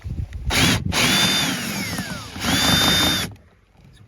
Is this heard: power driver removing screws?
yes